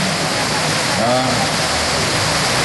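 Steady heavy rain pours down in a dense, continuous hiss, with a brief faint voice buried underneath.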